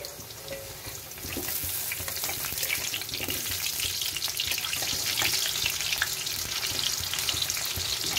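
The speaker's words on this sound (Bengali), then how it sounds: "একটু আলুটা নাড়া দিয়ে নিচ্ছি।" Potatoes fry in a pan with a steady crackling sizzle while being stirred, scraping sounds and bits of clatter mixed into the continuous frying noise, no one speaking.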